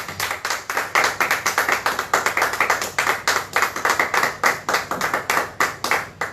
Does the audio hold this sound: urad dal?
no